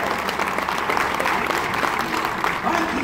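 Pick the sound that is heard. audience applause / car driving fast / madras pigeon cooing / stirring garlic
audience applause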